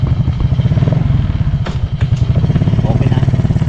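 A motorcycle engine runs loud and close with a steady, throbbing putter, and voices can be heard briefly over it.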